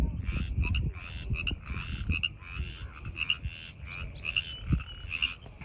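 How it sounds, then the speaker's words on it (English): Frogs croak in a repeated, pulsing chorus at a water source outdoors, rhythmic calls continuing steadily with soft rustling and thumps in the background. "just listen to the frogs croaking"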